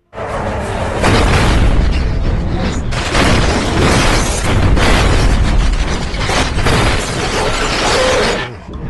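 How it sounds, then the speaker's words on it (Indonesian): A loud, sustained crashing impact as a car hits a person in a film, with heavy booming rumble and bursts of debris, continuous for several seconds before cutting off. "lalu sebuah mobil menabraknya"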